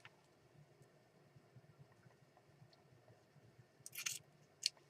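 Scissors snip through paper during journal crafting, two short crisp cuts close by near the end of a quiet stretch with faint low background hum.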